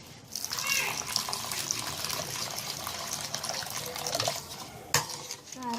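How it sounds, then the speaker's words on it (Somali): Water runs steadily into a bowl of bread dough ingredients (flour, yeast, baking powder, sugar), a continuous splashing pour at close range that ends with a brief clatter. "waxaan ku qasanaynaa biyo yar oo qandacaan"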